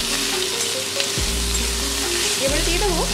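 Sliced potato frying in hot oil with small kachki fish, a dense constant sizzle with stirring scrapes, close and loud from start to finish.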